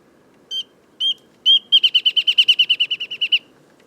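Recorded wrentit song: a few separate high whistled notes, then an accelerating series of about fifteen evenly spaced bouncing notes, clear and fairly close over faint low background noise.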